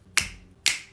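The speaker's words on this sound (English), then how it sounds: "Finger snaps are some of my favorite kind of percussion," Two crisp finger snaps recorded as percussion, evenly spaced about half a second apart, close and dry, each with a short bright decay.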